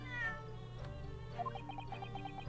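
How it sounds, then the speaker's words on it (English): A cat meows in the Great Ace Attorney Chronicles video game, a clear drawn-out mew over soft background music with a steady hum and gentle plinking notes. "I deign not voice act for the cat. It seems to have a perfect sound already."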